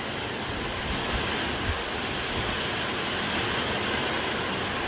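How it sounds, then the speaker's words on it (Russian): Gusty wind blowing during a downpour by the sea at Yeysk makes a broad, steady roaring rush with slight surges, fairly loud and close, with no voices. "А ветер порывами."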